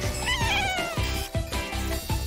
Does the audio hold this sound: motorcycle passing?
no